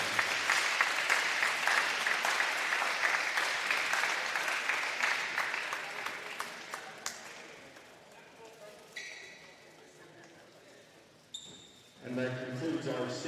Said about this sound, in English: Let's give Mr. Tyreek Wilkins a big round of applause